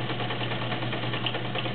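A vintage Kenmore Heavy Duty 1207 sewing machine stitching zigzag makes a smooth, even, continuous mechanical whir, close and alone.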